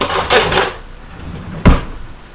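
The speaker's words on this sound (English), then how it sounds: "Let me use a spoon." A spoon scraping and clinking in a pan while making chocolate banana pancakes: a rattling clatter in two short bursts, then a single sharp, loud metallic clink, close up in a quiet kitchen.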